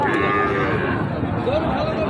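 Sahiwal cattle lowing at a crowded border cattle market, with a long drawn moo and a second rising call over a dense background of crowd noise, loud and near.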